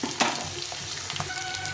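Potatoes fry in hot oil with scorched spices. A dense, even sizzle carries a few quick stirring scrapes up close, and no one speaks.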